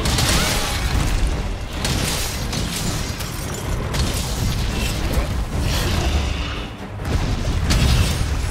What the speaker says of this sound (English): That's gonna explode